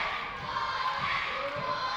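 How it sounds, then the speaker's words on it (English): A crowd at an indoor school-gym pro wrestling show keeps up a steady, moderately loud roar of cheering and chatter, with a few dull thuds faintly underneath. "And listen to this crowd."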